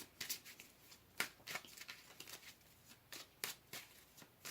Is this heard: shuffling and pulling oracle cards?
yes